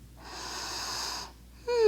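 A long slow breath during a yoga flow, a steady airy wheeze of exhalation lasting about a second, followed by a short sharp intake at the end.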